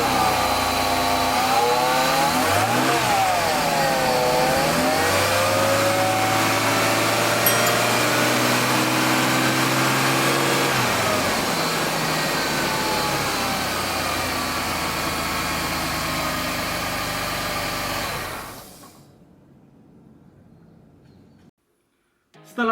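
A Mercedes-Benz W124 E320 engine runs steadily, a continuous drone with shifting tones as revs change slightly, before cutting off abruptly near the end, leaving near silence.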